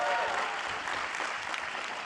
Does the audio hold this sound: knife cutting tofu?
no